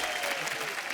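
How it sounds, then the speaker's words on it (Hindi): Studio audience applause on The Kapil Sharma Show, an Indian TV comedy talk show, a dense, steady wash of clapping filling the short moment without a break. "तालियां भाई"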